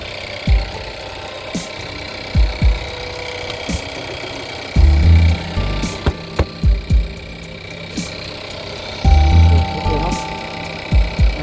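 Volkswagen Polo engine running rough with a misfire, a low steady idle rumble broken by irregular heavy thumps and knocks as the engine shakes, recorded close up.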